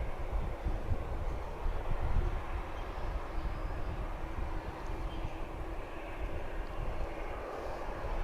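An American Airlines jet turns on the ground at DFW Airport, a steady broadband engine roar at a moderate distance that stays constant throughout, with no talking.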